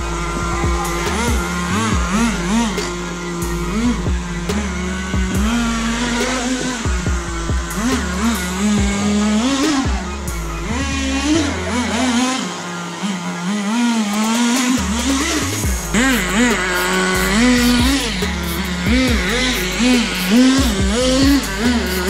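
A Redcat Shockwave 1/10 scale nitro RC buggy runs nearby with a loud, buzzing two-stroke whine that revs up and down continuously, briefly dropping off once before screaming back up.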